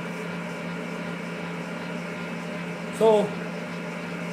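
An electric mixer runs in a home kitchen, giving a steady, even motor hum at moderate volume throughout, briefly interrupted by a short spoken word.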